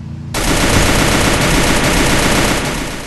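Sustained, loud automatic gunfire bursting out abruptly and continuing almost unbroken in a battle royale video game, dense rapid shots filling the whole stretch with no talk over it.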